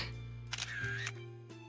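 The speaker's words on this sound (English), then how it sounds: "The sound of the shutter clicks on the panel." Two crisp camera shutter clicks from the 9-Nine visual novel, spaced about a second apart over a steady background music bed, fairly close and clear.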